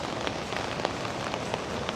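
Steady evening rain falls on an almost empty city street in BGC, a dense even hiss with faint scattered droplet taps, close and continuous with no voices.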